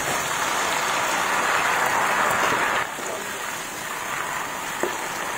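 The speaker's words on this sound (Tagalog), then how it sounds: "Tapos lagyan natin to ng tubig." Water poured into a pan of eggplant and tofu cooking with shrimp paste makes a loud rushing sizzle that drops to a softer simmering hiss partway through.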